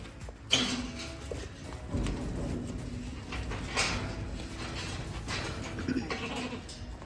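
Sheep bleat in a catch pen: several distinct bleats at close range spread across a few seconds, over a low background of shuffling and movement.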